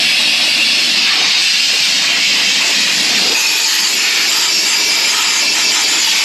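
Compressed air blasting to clean behind a farm tractor during maintenance, a loud steady hiss held without a break throughout, with no talking.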